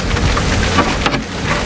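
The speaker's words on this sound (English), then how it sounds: "it's starting to rain really hard" Heavy rain pours down outdoors during a hydraulic steering repair, a loud, dense, continuous hiss of drops that fills the whole moment with no voices.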